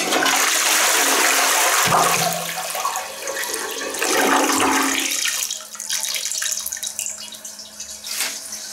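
A household toilet, just repaired with a new flapper, flushes with a loud rush of water, then the tank refills with a softer, continuous hiss until the end.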